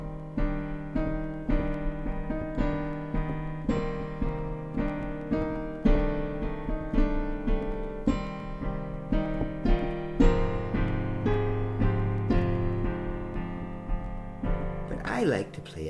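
Piano chords roll out as broken arpeggios over a slowly descending bass line, soft and steady, with a brief voice near the end.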